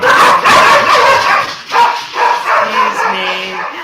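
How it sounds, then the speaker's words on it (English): Two dogs barking repeatedly indoors in a home, loud and close, with overlapping yips and whimpers in quick irregular bursts and no talk. "I am in lockdown with two very lovely dogs that like to bark a lot."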